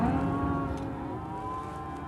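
Cattle at a livestock sale give a drawn-out, droning moo, a single sustained low call close by that fades slightly toward the end.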